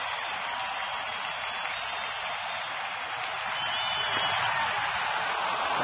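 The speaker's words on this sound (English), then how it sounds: "Crowd on its feet." A baseball stadium crowd on its feet during a Tigers home game against the Twins, a dense roar of cheering and clapping heard from a distance, steady and swelling slightly toward the end.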